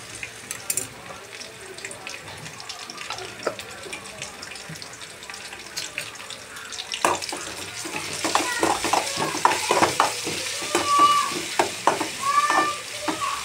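Ginger garlic paste is stirred in a pan for vegetable kurma: a soft sizzle with occasional clinks at first, then the frying grows louder and busier with repeated spoon scrapes and taps.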